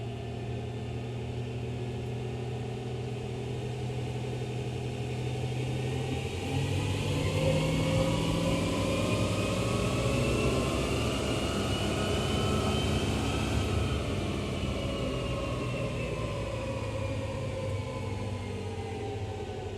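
An L5P Duramax diesel pickup with an Edge Evolution HT2 tuner roars continuously on a chassis dyno, the loud engine drone rising in pitch through a long sustained pull and then easing off, with no talking.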